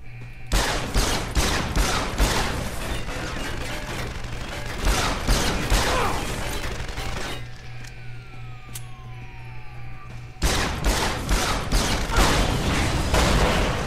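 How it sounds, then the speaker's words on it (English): Rapid pistol gunshots fired at a robot in the video game Deus Ex: Human Revolution, loud repeated cracks in dense bursts with a brief lull midway before shooting resumes, over game background ambience. "we're gonna see if we can take him out with a pistol"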